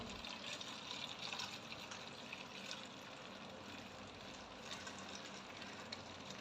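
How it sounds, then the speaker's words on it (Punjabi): Boiled and cooled water pours steadily into a one-litre plastic bottle, a faint, continuous liquid rush with no voices. "ਇਸ ਤਰ੍ਹਾਂ ਪਾ ਲੈਣਾ ਇਹਦੇ ਵਿੱਚ ਪਾਣੀ"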